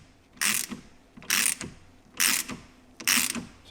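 A ratchet tool tightens in four evenly spaced bursts of loud clicking, pushing an Audi Q7 axle back through the wheel bearing, with short pauses between strokes.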